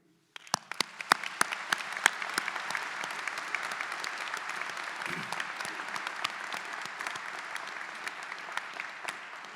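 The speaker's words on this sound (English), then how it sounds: "you most certainly deserve a very, very serious round of applause from all of us here today" A large audience at the December 2019 University of Illinois doctoral hooding ceremony breaks into sustained applause, a dense, even wash of many hands clapping that carries on for about nine seconds.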